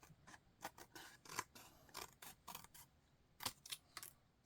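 Scissors cut paper in short crisp snips at an uneven rhythm, close and quiet, with about a dozen separate cuts and no voice over them.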